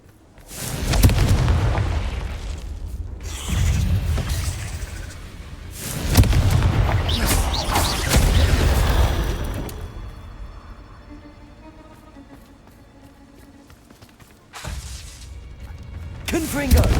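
Repeated Confringo fire spell blasts in Hogwarts Legacy, a cave maze setting: loud booming bursts in clusters, with a quieter stretch of rumbling ambience between them.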